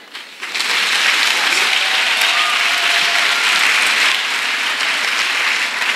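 An audience at a singles' retreat bursts into loud, sustained applause that swells quickly and holds steady, a dense wash of clapping hands.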